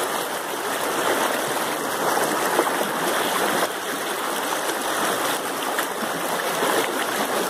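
Steady rushing of water flowing along a rain-swollen creek, the Riacho do Tigre in Solonópole, Ceará, Brazil, continuous and fairly loud with no pauses, filling the whole stretch.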